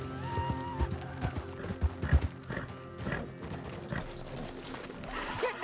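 Horse hooves in Red Dead Redemption 2 clip-clop at a steady gallop-like rhythm alongside a brief whinny, moderately loud and close, set over game ambience with tonal music hums and no speech.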